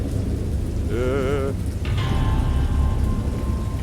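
A thunderstorm brings heavy rain hissing steadily, with low rolling thunder beneath it and a short tonal wavering sound rising over the downpour.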